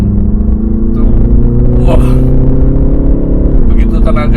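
BMW 330i G20 accelerating in sport mode, engine drone holding steady then shifting pitch near the end, heard loud from inside the cabin with a person talking over it.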